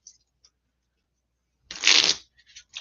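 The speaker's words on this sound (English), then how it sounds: "We did not shuffle enough." A deck of trading cards is shuffled during a tabletop game session, one quick riffle burst lasting under a second, followed by a few light card clicks.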